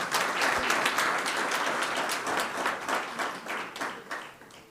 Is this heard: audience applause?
yes